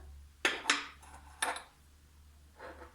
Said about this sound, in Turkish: Fincanlarımı tenceremin içerisine yerleştirdim.